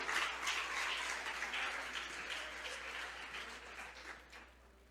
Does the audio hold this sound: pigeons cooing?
no